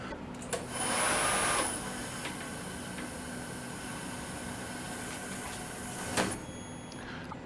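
Change gears turning on an Emco Super 11 lathe, a steady mechanical whir and faint whine running continuously at moderate level, with a brief louder rise near the start and a small clunk toward the end.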